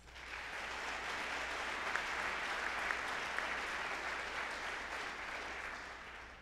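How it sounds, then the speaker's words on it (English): Audience applause for a school string quartet at a National Honor Society spring induction ceremony, a continuous even wash of many hands clapping, fairly distant and soft, swelling in and tapering at the end. "Please give them a round of applause."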